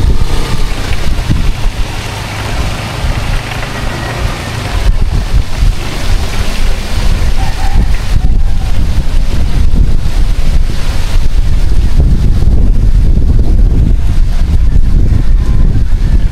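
Strong wind buffeting the microphone with heavy low rumble and gusts, over a wash of water, loud and continuous, while climbing a coconut palm to collect tuba sap.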